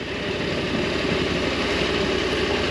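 A Husqvarna Norden 901 motorcycle engine idles close by while parked at a roadside stop, giving a loud, steady, low throb with a fast, even pulse and no voices.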